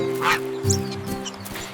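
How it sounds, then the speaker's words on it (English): A goose in a children's nursery rhyme gives a few short quacks and honks over steady, sustained background music. "Goosey Gander strutted slow, quacking softly to and fro."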